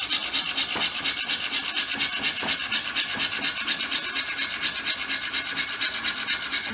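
A hand saw rasps back and forth through wood in a steady, even rhythm of strokes, close and fairly loud with no voices.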